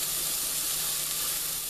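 A burger sizzling hard in hot oil during deep frying, a steady loud crackling hiss that holds evenly throughout with no talk.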